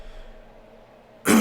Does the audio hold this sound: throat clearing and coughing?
yes